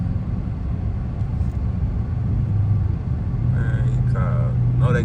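Interior ride in a Dodge Challenger Hellcat on a snowy road, with a steady low engine and road rumble droning throughout and brief voices chiming in near the end.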